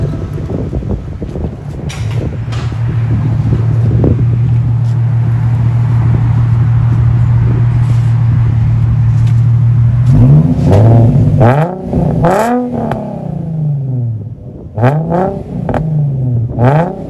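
A Nissan 350Z fitted with a Flowmaster Flow FX exhaust holds a steady loud drone, then is revved in several sharp rising and falling bursts, close and alone without talk.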